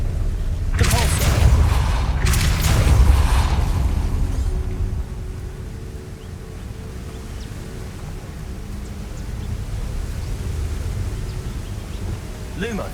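Depulso spell cast in the video game Hogwarts Legacy: two loud, bursting blasts in quick succession, followed by a lower lingering rumble of game ambience.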